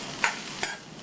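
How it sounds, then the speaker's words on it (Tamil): Grated coconut is stirred in a pan over a medium flame, giving a soft, steady sizzle with two brief scraping strokes of a spatula. "தேங்காய் துருவல்ல இருக்கிற ஈரப்பதம் போய் நல்லா வாசனை வர வரைக்கும் ஒரு 4-5 நிமிஷத்துக்கு மீடியம் ஃப்ளேமில் வச்சு வதக்கிக்கணும்"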